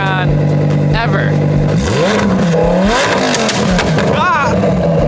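A Lamborghini Huracan roars past loudly and close, its engine revving and rising in pitch through a dense, aggressive flyby while people talk and shout over it.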